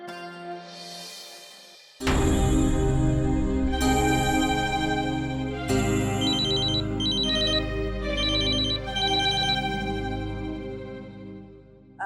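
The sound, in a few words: telephone ringing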